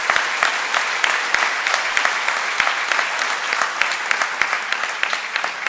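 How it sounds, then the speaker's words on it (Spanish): An audience at a congress on planning and foresight applauds, a dense and even clapping that holds steady throughout at moderate loudness, with no voices over it. "Un aplauso para todas esas personas que están ahí presentes."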